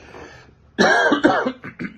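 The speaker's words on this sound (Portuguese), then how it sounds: "Mais uma tossida." A close, harsh cough in two or three rough bursts, followed by a short throat-clearing rasp.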